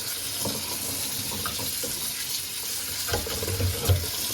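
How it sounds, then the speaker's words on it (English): Kitchen tap water running over freshly picked fragile berries as they are rinsed, a steady splashing flow with a few small clatters and bumps, close and moderately loud, no voices. "Just run some water through them like this."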